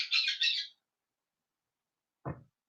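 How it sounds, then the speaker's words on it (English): A bird gives a quick pair of bright, raspy chirps, then after a pause one short lower squawk; otherwise silent. "Now the finch goes."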